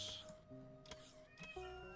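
A house cat meows a couple of times, fairly close but quiet, in an indoor room.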